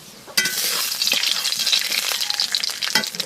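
Mustard oil with black cumin seeds and dried red chillies sizzles loudly in a wok, a sudden burst of crackling frying that keeps spitting and hissing, with stirring scrapes throughout.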